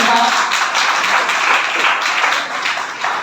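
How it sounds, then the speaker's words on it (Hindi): A seated audience at a motivational gathering claps loudly, a dense, continuous roar of hands that stays strong for several seconds. "तो आप लोग अपने लिए एक बार फिर से जोरदार ताली बजाइए।"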